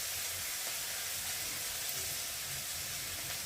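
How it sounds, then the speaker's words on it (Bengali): Tomatoes fry with salt in a pan, a continuous close sizzle and hiss that stays even throughout, with faint stirring underneath and no speech. "নুন দিলে টমেটোটা তাড়াতাড়ি ভেজে যায়"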